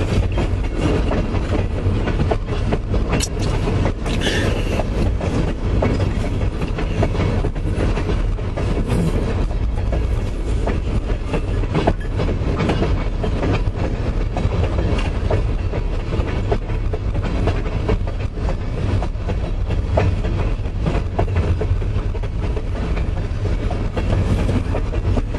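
A long, steady rumble of an empty Pan Am Railways grain train with BNSF locomotives rolling past in North Adams, Massachusetts, rhythmic clickety-clack of wheels on rail joints, loud and continuous throughout, no voices.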